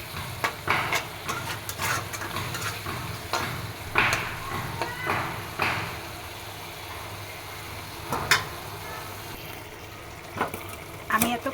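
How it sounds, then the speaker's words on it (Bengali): Curry being sautéed and stirred in a pan, with steady sizzling broken by repeated scraping and clattering strokes of a spatula, close and fairly loud throughout. "ঠিক কষাচ্ছি, কষানো হয়ে গেলে ভুনা ভুনা করবো"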